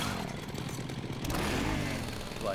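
Leatherface's chainsaw in the Mortal Kombat X fighting game revs as a loud, rough, buzzing motor roar that holds steady through the whole moment and swells slightly near the end.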